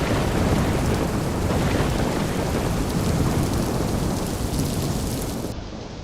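Heavy rain pours down in a dense, continuous hiss with low thunder rumbling underneath, the roar easing slightly toward the end.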